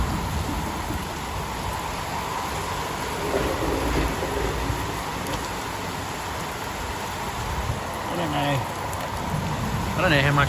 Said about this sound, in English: This is the first decent storm we've had.